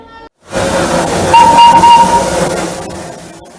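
A heritage steam locomotive of the Darjeeling toy train sounds a single loud, sustained whistle over hissing steam, close by and alone.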